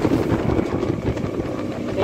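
An MMTS suburban train running from Lingampalli toward Secunderabad gives a loud, continuous low rumble with faint rhythmic rattling, heard from on board.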